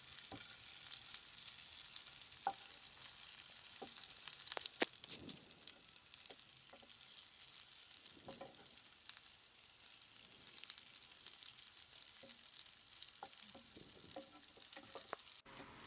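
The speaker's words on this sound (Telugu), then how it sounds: "తర్వాత కాకరకాయలను చూపించిన విధముగా కాల్చుకుంటూ ఉండాలి" Stuffed bitter gourds fry in a pan with a continuous soft sizzle and hiss, broken by scattered pops, crackles and light utensil taps, fairly quiet and close, with no talking.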